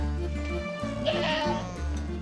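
Goats bleat close by on a nomadic herding camp in Mongolia, a few wavering cries following one another across a couple of seconds with faint farmyard noise behind.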